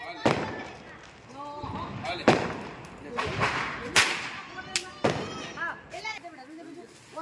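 Diwali firecrackers burst outdoors in a series of sharp, loud cracks and pops spaced irregularly over several seconds, with people talking and exclaiming between the bangs.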